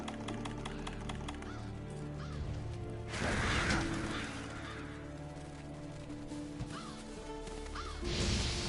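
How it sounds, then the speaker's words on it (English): Black scavenger birds cawing in Monster Hunter World during The Witcher event, a few harsh calls mixed with bursts of crashing and flapping noise, moderately loud. "Seems the black birds are the culprits."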